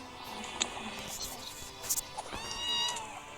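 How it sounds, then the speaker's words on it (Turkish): A house cat meows clearly a few times, with a longer drawn-out meow near the end, amid background room noise during a Free Fire gaming session. "Arkadaşlar Berat'ın kedisi"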